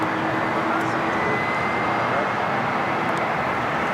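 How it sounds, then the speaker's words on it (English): A Delta Airlines Boeing 737-900ER arriving at LAX on a flight from Nashville, heard as a steady, loud, broadband jet roar that holds unbroken throughout, with no clear speech over it. "You're looking at a flight coming in from Nashville, Tennessee. Flight 8901 with Delta Airlines. It's a 737-900ER."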